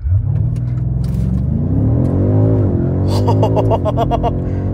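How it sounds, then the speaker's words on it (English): A 2021 BMW M5 F90 in four-wheel-drive sport mode launches from standstill, its engine roaring loudly and rising in pitch through hard acceleration, with quick gear shifts audible near the end. "Let's see if we can do a launch control here."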